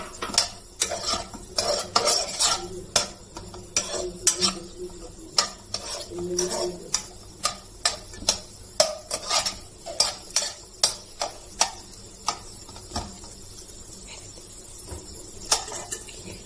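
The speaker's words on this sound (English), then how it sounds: "take this chopped onions and mix it in this oil" Chopped onions stirred into hot oil in a pan, a spoon knocking and scraping against the metal in quick, fairly regular clacks over a soft sizzle, close and busy at first, then thinning to scattered taps.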